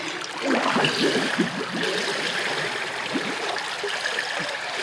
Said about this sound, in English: You gotta blow bubbles in my face and I have to blow bubbles in your face